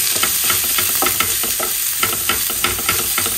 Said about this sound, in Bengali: পেঁয়াজ কাঁচা লঙ্কাটা একটু হালকা ভেজে নেবো, খুব বেশি লাল করে ভাজবো না